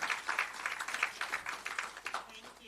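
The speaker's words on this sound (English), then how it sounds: "So please give each and every one of you a round of applause for everything you're doing." Audience at a patient empowerment summit clapping, a moderate, slightly distant patter of hands in uneven bursts, with no voices standing out.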